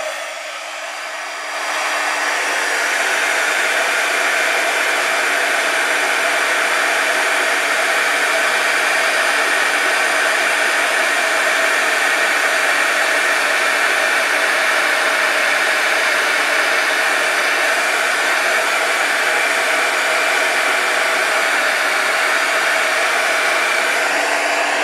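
A heat tool blows steadily to melt a mix of red, black and gold embossing powder, a loud continuous whooshing whir that starts after a brief pause and holds unchanged throughout.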